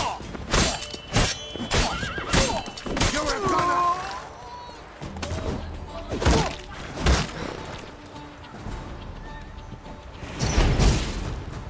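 Horse in the video game Witcher 3 neighing and whinnying among clip-clopping hooves, thuds and game effects, with a voice speaking over parts.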